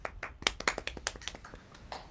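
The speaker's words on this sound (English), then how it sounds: "let's give him a round of applause." Online participants clap for a musician at a virtual gathering, a scattered patter of uneven claps and taps from several people, fairly close and moderately loud, with no talking.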